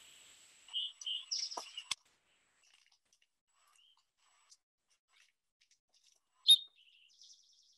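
A common songbird of northern New Mexico gives short, bright chirps in a quick cluster, then a long quiet gap, then one sharp chirp and a faint trailing call, heard alone in near silence.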